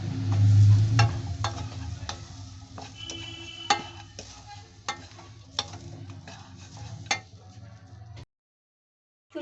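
Suji upma being stirred in a pan gives soft scraping and a low simmering hiss, punctuated by sharp clicks of a spoon against the pan, before stopping abruptly.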